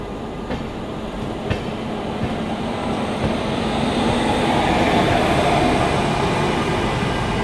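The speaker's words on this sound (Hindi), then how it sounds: "ये आ गई फरक्का एक्सप्रेस" Farakka Express, hauled by a WAP5 electric locomotive, passes on the outer tracks near DDU railway station. A continuous rolling rumble builds and holds steady, with faint rhythmic wheel clicks and no talk.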